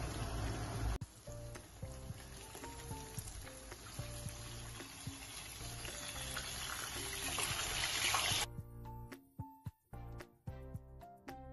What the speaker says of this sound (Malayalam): ഓയില് നന്നായി ചൂടായിട്ടുണ്ട് ഇനി നമുക്ക് ഫിഷ് ചേർത്തെടുക്കാം